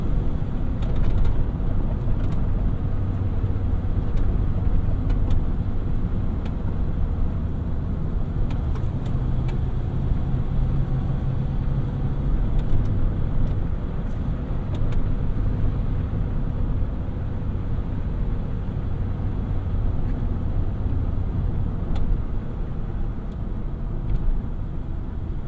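A 2000 Toyota Tundra SR5 V8 drives along after a downshift from fourth to third, its engine giving a steady, close, low rumble with road noise that holds evenly throughout, no talking.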